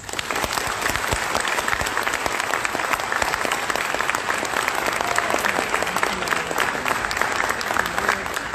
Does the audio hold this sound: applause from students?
yes